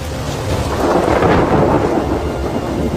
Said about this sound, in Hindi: बरसात आ चुकी है।